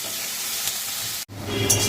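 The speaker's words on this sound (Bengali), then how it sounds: "এটা একটুখানি লাল লাল করে ভাজা হোক" Onion frying in a pan for fried rice, a steady close sizzle and hiss throughout, briefly cut off for a moment before the frying resumes.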